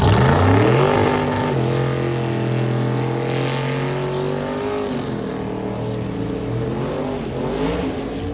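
A Mustang race car does a burnout to heat its tires at a drag racing event. The engine roars loud and close the whole time, holding high and steady with changing pitch.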